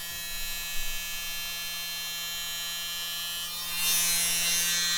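A small electric mini blower used for acrylic paint pouring runs as a steady, loud whine with a constant hum underneath, growing louder and hissier near the end as it is pushed harder.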